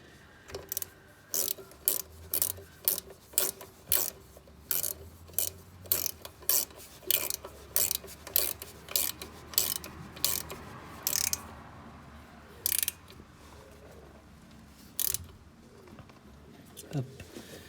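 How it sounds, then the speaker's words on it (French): A nut being screwed by hand onto a replacement ABS sensor on a car, giving a steady run of sharp ratcheting clicks in an even rhythm that thins out into a few spaced clicks near the end, close and fairly loud. "on vient le visser"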